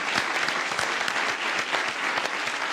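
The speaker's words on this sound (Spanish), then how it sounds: "Yo les pido un aplauso para ellos" Applause for Mitzi and Mayor Ledesma at a colloquium at La Moneda, dense continuous clapping from a large audience filling the whole stretch at steady loudness.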